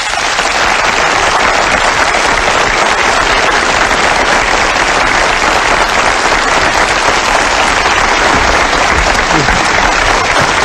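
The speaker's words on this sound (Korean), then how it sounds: "두 배우가 나오니까 엄청나게 치는데" A large lecture audience breaks into loud, sustained applause as two film actors come out on stage, a dense, even roar of clapping that lasts throughout with no voices on top.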